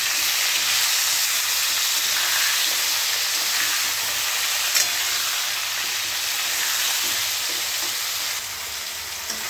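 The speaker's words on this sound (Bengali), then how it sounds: "মাংসের আলুটা ভেজে নিচ্ছি" Potatoes for a meat curry fry in hot oil with a steady, dense sizzle that holds evenly throughout, with no talking.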